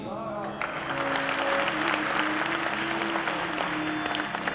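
A Hindi lecture audience applauds in a dense, continuous wash of hand claps, with a sustained tonal hum from the venue sound system running beneath at the start.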